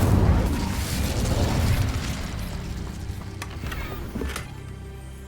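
The Incendio fire spell in Hogwarts Legacy lets out a loud, booming rush that slowly fades over several seconds, with a few sharp crackles and pops near the end.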